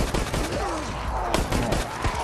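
Gunfire in the survival horror game Resident Evil Resistance comes as a dense burst of rapid shots over constant game noise, with a louder crack near the middle and a faint voice underneath.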